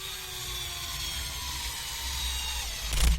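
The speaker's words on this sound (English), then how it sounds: "here it's pretty tight fit, so the screws are going in pretty tough already" Screws being driven into tight-fitting parts of a PR Racing Type-R EVO RC buggy kit, a steady close mechanical ratcheting grind that builds toward a louder burst at the end.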